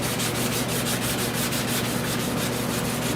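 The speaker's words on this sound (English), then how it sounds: "just come in with 600 grit sandpaper" A car door jamb is wet sanded with 600 grit sandpaper, giving a steady, close, rhythmic rubbing scrape that continues throughout with no talking.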